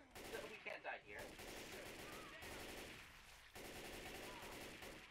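Gunfire in a co-op shooter video game, heard as dense continuous rattling shots under a noisy, chaotic game mix, with voices faintly present.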